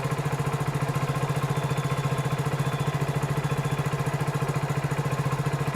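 Hero Splendor BS6 motorcycle engine running at steady revs, a close, even, rapidly pulsing single-cylinder putter that holds constant throughout.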